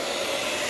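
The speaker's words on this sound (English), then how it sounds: "I am using a hair dryer to dry this over here." A hair dryer blowing steadily on a fresh drywall patch, a loud, close, unbroken whine and rush of air.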